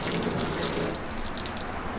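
Steady close spray from a garden hose rinsing a vehicle, used as a final rinse after pressure washing; the broadband wash of running water stays loud and unbroken from start to finish.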